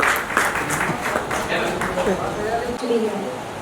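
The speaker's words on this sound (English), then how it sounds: "A big round of applause for Sayali." Audience at a skincare brand launch applauds steadily, a close, dense patter of clapping with voices and murmuring mixed throughout.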